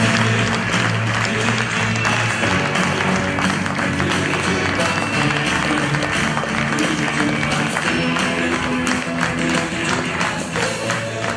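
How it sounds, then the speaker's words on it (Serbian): Steady applause from a seated audience greeting a speaker at an entrepreneurship talk, dense continuous clapping that holds at an even level throughout. "Molim vas velikim aplauzom pozdravite Goricu Dragotinović."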